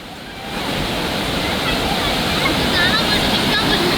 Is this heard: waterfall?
yes